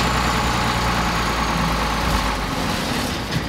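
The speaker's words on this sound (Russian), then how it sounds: "Шум мотора здесь не прекращается." A bulldozer engine runs in a continuous low, rumbling drone, steady and fairly loud throughout.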